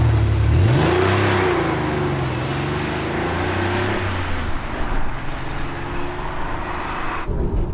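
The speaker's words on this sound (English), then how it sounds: "As soon as you get moving in this 1992 964 RS, your senses are assaulted from all sides. There is so much mechanical noise in this car." A 1992 Porsche 964 RS pulls away, its engine revving up through the gears with rising pitch, loud and close from inside the car, then easing into a rougher, lower mechanical drone before cutting off.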